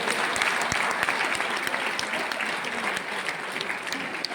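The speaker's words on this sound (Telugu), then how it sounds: "చెప్పిన దానికి చప్పట్లు కొట్టారు మీరు" Sustained audience applause filling a hall, dense overlapping claps at steady loudness for several seconds.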